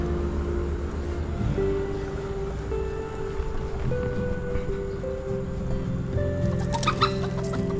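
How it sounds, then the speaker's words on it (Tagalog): Chickens cluck and call repeatedly over a steady low rumble, with a few sharper squawks near the end; no one speaks. "Manok."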